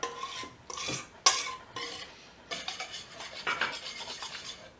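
A whisk scrapes and clatters against a bowl while batter is mixed, in irregular close-up bursts with no talking.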